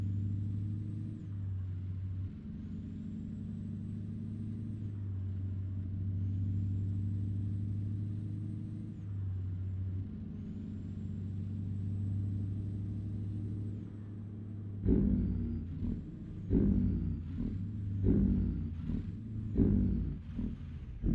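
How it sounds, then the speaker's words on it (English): A Kenworth truck engine in American Truck Simulator idles and runs with a steady low droning hum, then the last several seconds bring louder revving surges and choppy shifts in rhythm. "Loud engine sounds or quiet engine sounds?"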